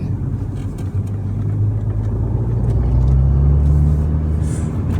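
An Alpine A110 Légende with its turbocharged engine drives along a road, giving a steady low rumble that swells slightly in the middle as if accelerating, heard from inside with no talk.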